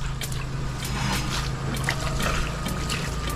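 Water rushes steadily and forcefully from a tap under strong pressure, a continuous hissing stream with a low hum underneath.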